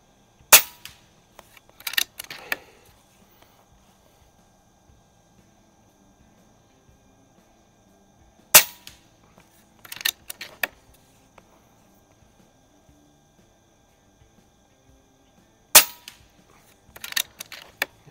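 An Air Venturi Avenger air rifle fires JTS pellets at a target 50 yards away: three sharp, isolated cracks spaced several seconds apart, each followed by faint clicks and handling clatter, in an otherwise quiet setting.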